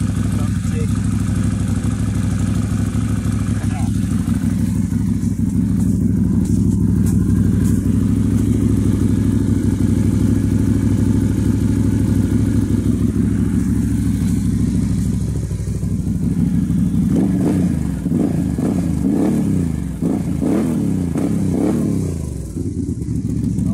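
A 2018 Can-Am Renegade XMR ATV engine with aftermarket exhaust and tuner idles with a steady low rumble, then revs up and down in several sharp bursts toward the end, loud and close.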